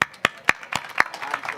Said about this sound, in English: This is a big clap for me to you guys.